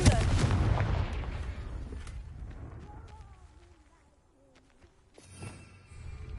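A Confringo fire spell in Hogwarts Legacy goes off with a loud explosive blast that rumbles and fades over a few seconds, followed by faint game sounds and a softer burst near the end.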